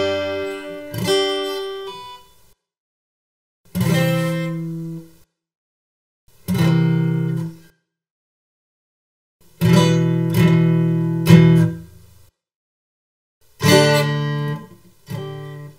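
Beginner guitar chords strummed unevenly, five or six separate bursts with gaps of silence between them, each chord ringing briefly and decaying, close and fairly loud with no voice.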